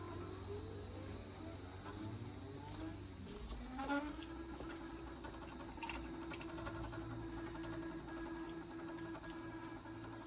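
Computerized longarm quilting machine running edge-to-edge with a QuiltMotion 5 Pro system, a steady mechanical whir with a rising pitch shift partway through, constant and moderately quiet.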